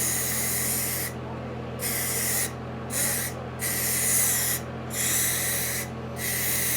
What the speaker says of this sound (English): I'm not worried about the blue for overspray because I'm going to have to sand it and repaint it anyway.